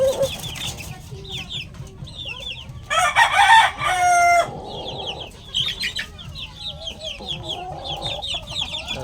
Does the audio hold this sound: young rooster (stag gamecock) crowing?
yes